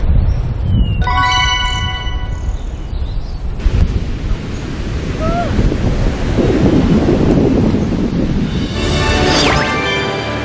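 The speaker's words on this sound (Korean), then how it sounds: "이제 파도 소리가 점점 커지기 시작했어." Loud, rumbling surf on a Colombian beach and strong wind buffeting the microphone, waves surging continuously, with a few faint high whistles and chirps on top.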